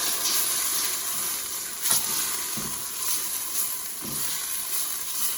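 Browned sausage and softened vegetables sizzling loudly in a pan, a constant frying hiss broken by a few stirring scrapes and clatters of the utensil, with no talking.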